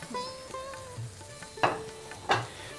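Tomato and garlic with a little chili powder frying in a pan give a soft, steady sizzle, broken by two sharper scraping stirs near the end.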